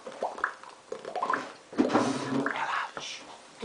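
A voice imitates bubbling water with wet, gurgling, burbling mouth noises in an uneven run of bursts, close and fairly loud.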